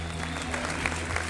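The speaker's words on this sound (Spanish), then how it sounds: "Un aplauso" Brief burst of audience applause at a business presentation, a soft steady patter of many hands clapping beneath a low background hum, fairly distant and subdued.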